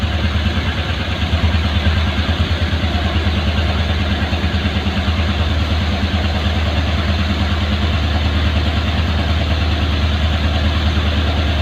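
A car engine idling after a restart, a loud, close, steady low rumble with an even mechanical throb that holds unchanged from start to finish, with no voices over it.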